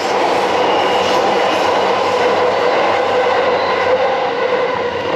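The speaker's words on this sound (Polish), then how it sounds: "Sorry, pociąg Yamanote." A Yamanote line train rumbles past close by in Ebisu, Japan, a loud continuous roar of wheels on rails with a faint metallic whine, no talk.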